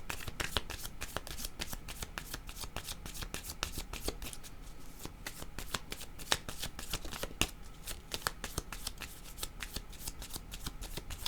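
Tarot cards are shuffled close up in a rapid, continuous riffle of crisp flicks and slaps that runs throughout, quiet overall with no clear talk.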